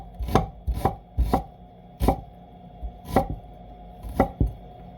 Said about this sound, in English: Cut your onions into rainbows.